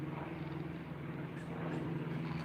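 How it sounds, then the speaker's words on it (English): A low steady engine drone rumbles throughout, like an airplane passing overhead, distant and fairly faint with no speech. "there's an airplane."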